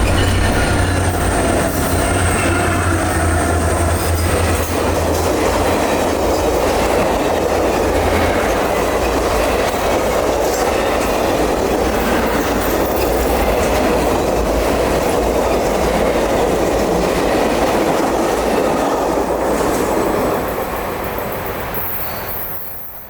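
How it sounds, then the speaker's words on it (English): A CSX freight train rolls past on the rails in a steady, loud wall of wheel rumble and clatter with faint squeals, holding strong for the whole stretch before easing slightly at the end. "undoubtedly one of the oldest but shiniest trains to run a Class 1 system"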